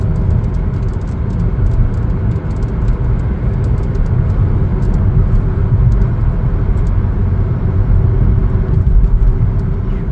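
Chevrolet Trax Activ on a test drive, a continuous loud low engine and road rumble heard from inside the cabin as the car pulls forward.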